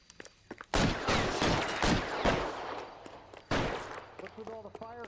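Bursts of gunfire from the L.A. Noire video game during an arson case, loud rapid volleys rattling off in several clusters, followed briefly by a spoken voice near the end.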